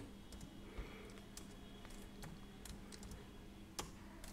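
Quiet, steady clicking of computer keyboard keys as code is typed, an irregular stream of light taps with a few sharper strokes, close and soft, with no voices.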